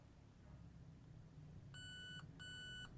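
Two crisp electronic beeps from a device after its battery goes in, each about half a second long, over faint background hum.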